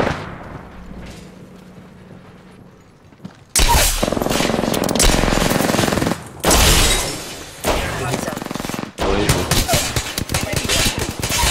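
Gunfire in the battle royale video game Apex Legends: after a quieter opening, loud bursts of shots and impacts break out in several dense clusters, mixed with game effects and a player talking over them.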